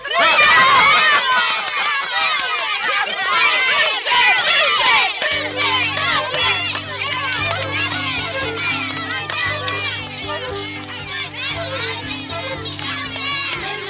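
A group of children cheer and shout loudly together, excited voices overlapping. Partway through, music starts and plays under their continuing shouts.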